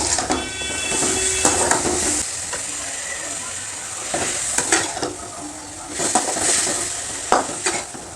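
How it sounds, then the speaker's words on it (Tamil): Onions, tomatoes and grated coconut sautéing in a pan for a chana masala gravy: a steady close sizzle broken by repeated scraping and stirring of a spoon against the pan. "நம்ம இது கிரேவிக்காக தான் வதக்கிட்டு இருக்கோம்."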